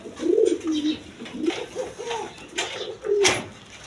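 Large pigeons at a bird seller's stall coo in repeated low rolling calls, several overlapping phrases close by and moderately loud.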